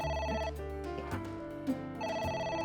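A telephone rings in the video game AI The Somnium Files, giving repeated electronic trills in bursts with a short pause between them, clear and prominent with no voices.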